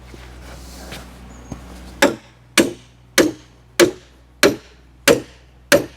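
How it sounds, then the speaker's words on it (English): Seven heavy, evenly spaced hammer blows ringing on solid oak roof truss timber, loud and close, with a faint murmur before them. "Let the hammer do the work."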